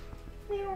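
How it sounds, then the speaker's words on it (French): A kitten gives a short, thin meow near the end, close by and fairly clear, over quiet background rumble in an abandoned building. "Un petit chaton."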